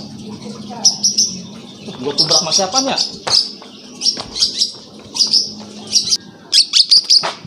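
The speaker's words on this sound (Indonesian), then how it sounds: "Lah, suara burung ini." Sharp, high bird chirps come in quick bursts, close and loud. Someone speaks briefly in between, and there are a few knocks and handling noises.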